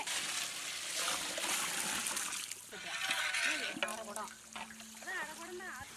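Water pouring and splashing into a biryani pot, a continuous trickling rush, with a voice speaking over it near the end.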